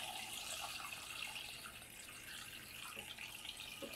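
Cold water, about one and a half gallons, pours steadily into a stock pot of beef bones, giving a continuous broad splashing rush for several seconds with no talking.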